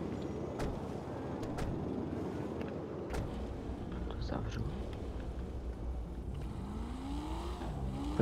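Car engine in GTA Online revving and accelerating, a steady mid-loud drone with rising pitch sweeps toward the end, with tire and road noise, while people talk over it.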